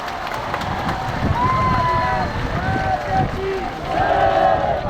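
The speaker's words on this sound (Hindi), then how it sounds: "एक बार कलेक्टर और एसपी के लिए जोरदार तालियां।" An audience at a religious discourse event gives loud applause, a dense continuous wash of clapping from a large crowd with some voices and cheering mixed in.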